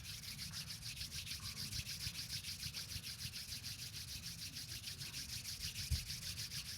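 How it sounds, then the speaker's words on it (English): Palms rubbing together in a continuous, steady swishing friction, fairly close and even, with a small knock near the end and no talking. "Wondering if all of you will join me in rubbing your hands together"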